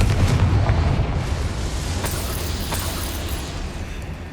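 A Confringo spell blast in Hogwarts Legacy, one heavy booming explosion that starts at full strength and then rumbles and fades slowly over a few seconds, with no voices.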